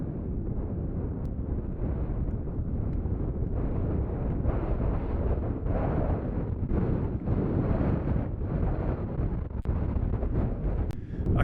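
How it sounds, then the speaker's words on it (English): Strong, gusty wind on a mountain summit roars and buffets the microphone in a steady, loud rumble, with no voices heard. "It is very, very windy, so hopefully you can hear me above the wind noise."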